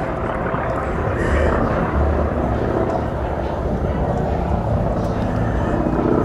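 North American T-28B Trojan radial-engine propeller trainer, a former US Navy aircraft, performing a flying display at the ILA Berlin air show: a steady, loud, broad engine drone holds throughout with no gaps.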